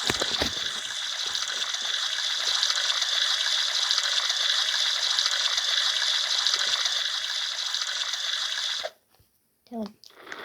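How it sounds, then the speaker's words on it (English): Tap water runs steadily into a sink during handwashing, a loud continuous hiss and splash that cuts off abruptly near the end, followed by a few brief small handling sounds. "Now we need to wash my hands."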